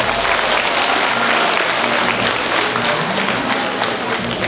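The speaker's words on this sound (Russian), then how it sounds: "И дружными аплодисментами поприветствую всех лучших из лучших" Loud, sustained audience applause at a school graduation ceremony in a chemists' house of culture, dense clapping from a large hall filling the whole stretch without any talk.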